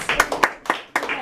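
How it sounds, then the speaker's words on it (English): A classroom of students claps for themselves at the end of a lesson, a short burst of several sharp, uneven hand claps up close. "Give yourselves a round of applause."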